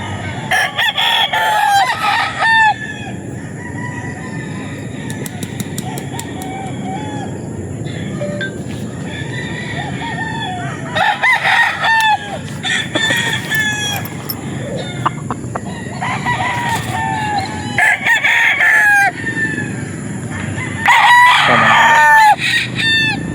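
Popeye grey gamefowl roosters at a farm crow repeatedly, several loud, close cock-a-doodle-doos spaced through the stretch, with softer clucking and background farm noise between them.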